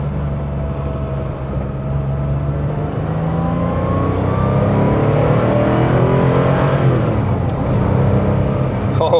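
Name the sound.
1985 Porsche 911 Carrera accelerating with Fabspeed exhaust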